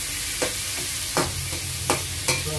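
Tomatoes sauté in a hot frying pan with a steady sizzle, broken by four sharp scrapes of a spatula stirring at roughly even intervals, close and clear with no talking.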